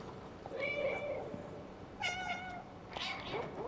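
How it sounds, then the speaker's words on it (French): Cat meows from the video game Stray, three separate calls spread over a few seconds, clear and fairly close over a soft steady background hum. "Alors, il faut miauler."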